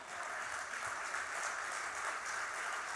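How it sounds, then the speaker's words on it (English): Audience applause at a talk on Indian cave temple sculpture, a steady dense wash of clapping filling the room for the full stretch, with no voices over it. "All this applause goes to that anonymous sculptor."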